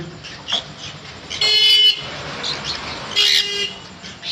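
Yellow-sided conures squawk in a bird shop, two loud harsh bursts a couple of seconds apart with fainter chirps in between, over a steady background hum.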